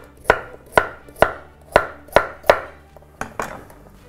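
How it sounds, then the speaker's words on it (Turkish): A knife chops vegetables on a cutting board, eight sharp, distinct thuds at a slightly uneven pace, close and clear. "Bunları böyle doğrayacağım."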